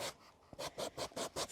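Leather shoe parts for homemade Birkenstock-style sandals are filed by hand, giving a series of about six rhythmic, close rasping strokes in quick succession, each a short bright scrape with brief pauses between.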